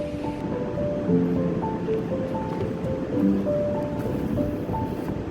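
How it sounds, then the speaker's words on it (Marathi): At Theronda jetty, waves wash and surge continuously against the shore while strong wind buffets the microphone, a dense roaring wash with faint tonal hums underneath. "येथे खूप प्रचंड वारा आहे आणि समुद्राचं रौद्र रूप आपल्याला इथे बघायला मिळतं"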